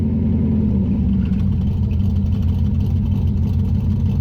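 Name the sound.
car V8 engine idling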